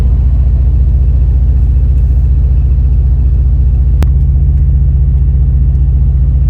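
A Mercedes C63 S Cabriolet's twin-turbo V8 idles with a steady, deep low rumble that stays even and continuous throughout, heard from inside the car with no talking.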